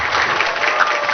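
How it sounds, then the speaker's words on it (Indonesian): An audience claps at a public recitation event at an Islamic boarding school, a brief burst of dense, steady applause from a crowd at moderate distance. "tepuk tangan dulu."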